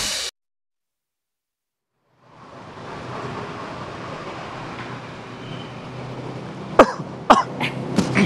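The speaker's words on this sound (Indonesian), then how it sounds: "Agak nggak enak tenggorokan saya nih. Lagi batuk." A few sharp coughs burst out near the end, close and loud over a steady rushing background after a stretch of silence.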